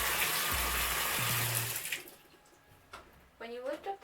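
A top-loading washing machine starts filling, water gushing loudly into the drum, then fading to a quieter trickle as a person begins talking.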